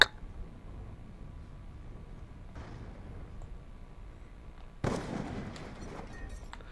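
Gunfire in a first-person shooter game cracks out as a few faint, scattered shots, with a quiet burst early on and a louder volley later, over a low hum of game ambience.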